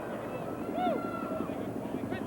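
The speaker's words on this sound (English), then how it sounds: "a helicopter circles overhead" A helicopter circles over a 1980 world championship game in Tacoma, Washington, its steady, distant rotor drone running beneath an announcer's commentary.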